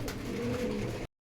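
Domestic pigeons cooing inside a home loft in Kushtia, with several birds' low, rolling coos overlapping steadily for about a second before stopping abruptly.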